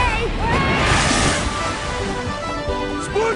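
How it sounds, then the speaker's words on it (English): A water ride vehicle on the Jimmy Neutron's Nicktoon Blast ride at Universal Studios Florida splashes down, a rushing watery surge mixed with ride soundtrack and voices talking over it. "Prepare to splash down."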